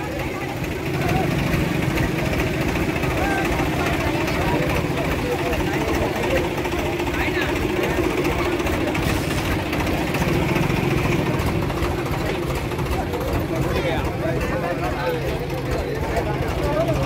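A tractor engine runs steadily nearby on a road in Nashik, a continuous loud idling rumble throughout, with people talking and shouting over it.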